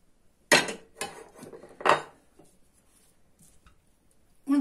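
A spoon scrapes and clinks through bulgur salad with onion in a bowl, two strong stirring strokes and a few lighter scuffs separated by near silence.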